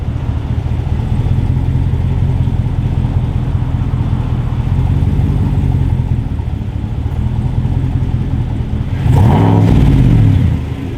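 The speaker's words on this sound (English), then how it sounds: "Let's give her a rev." A 2020 GMC 6.2L V8 fitted with a Blackwidow Widowmaker exhaust idles with a loud, steady, deep burble, then gives one strong rev that swells and drops back near the end.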